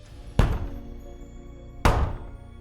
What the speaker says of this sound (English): Suddenly, loud bangs reverberated through the apartment.